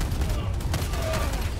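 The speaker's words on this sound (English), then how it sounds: "There's a guy shooting us from over there." Enemy gunfire in the video game Helldivers 2 crackles as a dense, continuous volley of rapid shots at moderate distance, with game noise layered around it.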